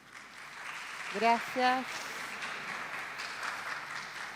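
An audience gives warm, sustained clapping to welcome a speaker to the stage; the clapping stays moderately loud throughout, and someone briefly speaks over it.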